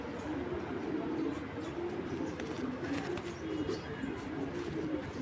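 Pigeons in a breeding pair cooing steadily at close range throughout, with a low continuous murmur and a constant background hiss.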